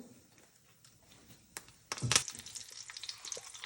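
Curry leaves and tempering spices hit hot oil: quiet at first, then a sudden crackling burst of sizzle and spitting that carries on unevenly, close by, with no talk.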